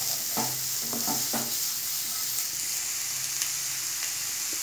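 Onions, capsicum and mushrooms fry in a hot pan with a steady bright sizzle. A few soft spoon knocks come from stirring early on.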